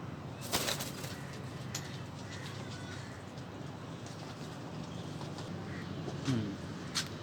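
Teddy breed pigeons in a breeder's loft give soft cooing with bursts of wing flapping, close by and moderately loud, under a steady background hiss.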